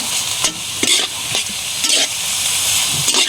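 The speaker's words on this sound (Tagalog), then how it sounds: "At haluin" A spoon stirs chicken seasoned with pepper in a frying pan, making repeated scraping strokes over a constant sizzle of hot oil, close and fairly loud with no talking.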